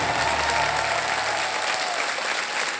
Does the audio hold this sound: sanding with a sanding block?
no